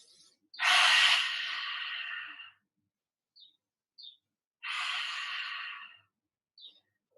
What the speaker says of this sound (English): this ocean-sounding breath that comes through